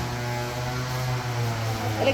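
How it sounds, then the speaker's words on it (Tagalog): Electric fan powered by a 1000 W solar inverter and a 24 V battery, running with a steady low hum and whirr, continuous and fairly close, with no talking. "Gumagana na yung electric fan."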